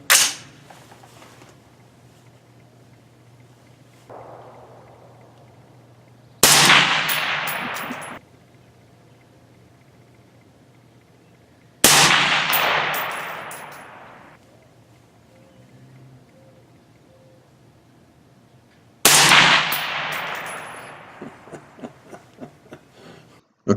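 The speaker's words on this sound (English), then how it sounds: "Adjusted the scope and shot this target" Three loud, sharp rifle reports from a BCM 16 LWE fitted with an AA XLP piston, spaced several seconds apart outdoors at a range. Each shot leaves a fading ringing tail, and faint metallic pings follow the last.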